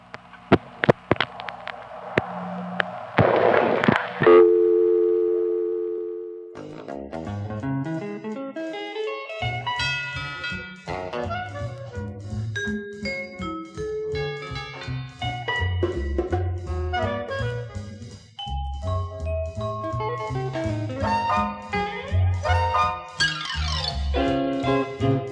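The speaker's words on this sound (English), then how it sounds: "I was just listening to this tape with all the beeps, bops, and boops sliding from one dial tone to another" Telephone test-line tones played from a tape recording of the New York phone network: a burst of clicks, then a long run of electronic beeps, boops and sliding dial-tone pitches, steady and loud with no talking.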